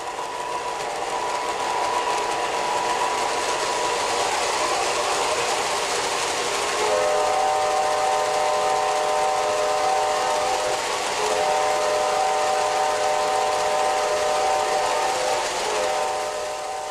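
A Lionel model GE diesel locomotive in Southern Pacific colors runs with a steady mechanical rumble, then a sustained multi-tone horn sounds twice in long blasts.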